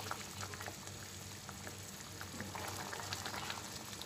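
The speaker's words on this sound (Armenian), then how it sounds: "Ահա տեսեք արդեն վերջին անգամ եմ եռացնում" Melon jam simmering in a pot on its final boil, a steady low bubbling and popping that runs continuously and fairly softly throughout.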